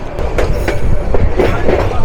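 The Parabat Express train rolls along the Dhaka–Sylhet line on a large curve past Brahmanbaria, with loud continuous rumble, rhythmic wheel clatter and hints of squeal, heard close throughout.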